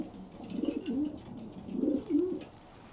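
Racing pigeons coo inside a loft, two soft rolling coos close by, each rising and falling, with faint rustling behind them.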